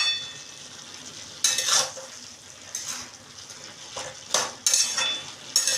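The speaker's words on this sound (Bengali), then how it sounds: "এবারে আমি এটা ভালো করে কষিয়ে নিচ্ছি" Snake gourd and potato curry being stir-fried in a pan, with several bursts of scraping and sizzling as the spatula works the vegetables, separated by quieter stretches of low background sizzle.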